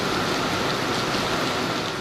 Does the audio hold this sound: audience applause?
no